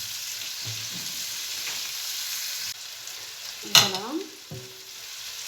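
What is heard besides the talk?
peppers and onions frying in a pan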